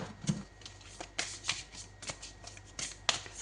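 Tarot cards are shuffled in quick, crisp riffling bursts of papery slaps and flutters, close and fairly soft, with no voice over the sound.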